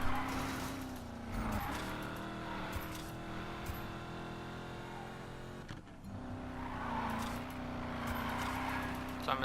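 A Chevrolet Camaro engine from the racing video game Need for Speed Payback drones steadily and loud for the whole stretch, with a brief dip near the middle before the roar picks up again.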